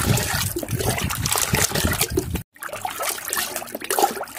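Water from a mug splashes and trickles onto a potted chrysanthemum, a steady close pour that breaks off in a brief pause, then resumes.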